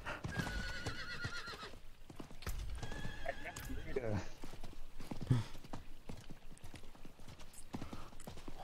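Horses in the video game Diablo IV whinny and neigh and gallop with rhythmic clip-clop hoofbeats, loud and close, while someone talks over the game sounds.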